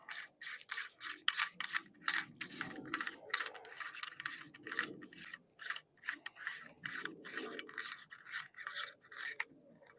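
A suppressor being unscrewed from an Airforce Texan SS .45 air rifle makes a close, repeated scraping, rasping rub in rhythmic strokes, like threads grinding, with brief gaps between turns and no voices.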